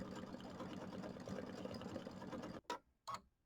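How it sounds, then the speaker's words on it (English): Embroidery machine stitching a programmable fill on a quilt block, a steady, dense rapid ticking and whirring that runs evenly, then breaks into short stop-start bursts near the end. "So these do take a little while to stitch out when they have that extra fill in there."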